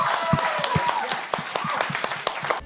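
A small audience claps in a quick, uneven patter of individual hand claps for about three seconds, close and fairly loud throughout.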